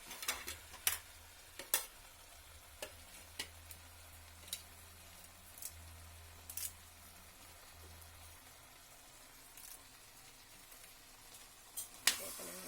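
A spoon stirs Kerala chicken thoran with masala in a pan, giving a low steady scraping and sizzle broken by sharp, irregular clinks and taps of the utensil against the metal.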